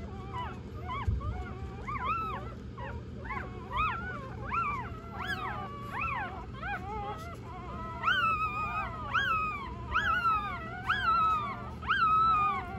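Newborn puppies on a heating pad squeak and whine close by, high-pitched and insistent. The cries come in a near-continuous series that grows louder and more crowded toward the end, over a soft background hiss.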